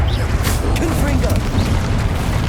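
The Confringo blasting spell explodes in the video game Hogwarts Legacy, a loud, booming rumble with crackling debris that fills the moment close up.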